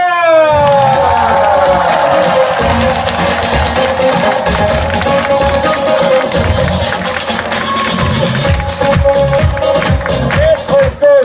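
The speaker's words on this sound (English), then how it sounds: "one more time, big applause!" An audience at a resort event applauds and cheers for the chef, a dense, continuous crowd roar with whoops, while someone speaks loudly over a microphone and music plays along.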